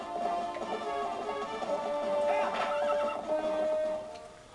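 A horse in the video game Zelda: Twilight Princess HD whinnies with a bright, drawn-out neigh, heard over steady tonal game music for several seconds.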